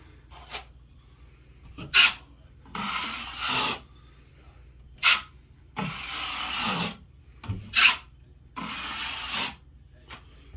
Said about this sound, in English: And when you're applying pressure to your trowel, just try and keep the same amount of pressure to it.